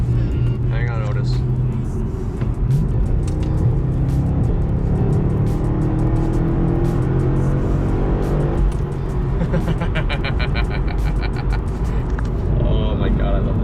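A car accelerating hard through traffic, engine droning loud and steady with a rising rev sweep near the end, while someone talks excitedly over it inside the cabin.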